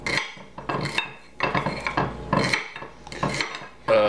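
A knife chops bowtie pasta salad ingredients on a board, sharp repeated knocks in uneven bursts with brief pauses, close and fairly loud.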